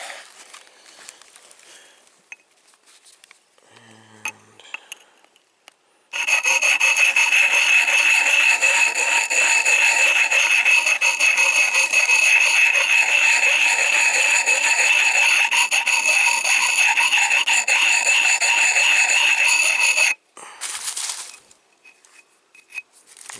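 A new axe is sharpened with a coarse stone, a steady, loud rasping scrape that runs unbroken for about fourteen seconds after some quieter handling noises.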